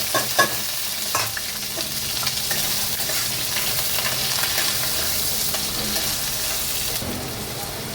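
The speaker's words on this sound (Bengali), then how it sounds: "এর মধ্যে দিয়ে দেবো বেশ খানিকটা গোটা জিরে, বড় সাইজের দুটো পেঁয়াজ, একটা টমেটো," Whole cumin, two large onions and a tomato fry in hot oil for a mild fish roe curry, a loud, steady, close sizzle with occasional stirring scrapes.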